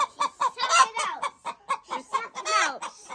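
Chickens on a homestead cluck in a quick, uneven string of short calls, close and fairly loud, with no talk over them.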